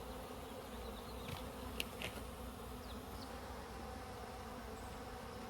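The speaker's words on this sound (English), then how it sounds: "very few bees up here." Small swarm of honeybees in a garden, a faint continuous buzzing hum that holds steady throughout with a few brief louder passes of individual bees.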